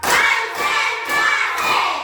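A school class claps in unison in four steady rhythmic bursts, led by a teacher's counted clap chant, with the sharp hand claps close and loud and no talk over them.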